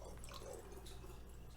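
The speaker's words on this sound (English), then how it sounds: "I'm just gonna pour it in there." Vanilla simple syrup poured from a container into a lidded mason jar, a soft steady trickle and drip of liquid running close by for a moment, with no talking over it.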